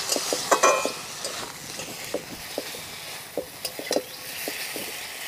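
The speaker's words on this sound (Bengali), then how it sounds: "এইভাবে একটু নাড়াচাড়া করে নিতে হবে।" Fried tangra fish are stirred in a pan of curry, with repeated close scrapes and clinks of the utensil over a soft background sizzle.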